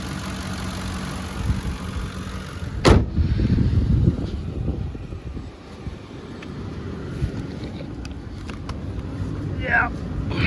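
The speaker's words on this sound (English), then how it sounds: "does that engine not sound so much better than that Expedition I did earlier?" The engine of a 2008 Lincoln Navigator runs with a low, steady rumble beneath a voice, broken by a sharp click and some wind buffeting.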